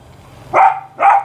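A Belgian Malinois gives two sharp, loud barks in close succession, heard close up over a quiet background.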